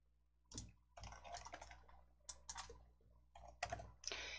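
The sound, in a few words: pressing L key on computer keyboard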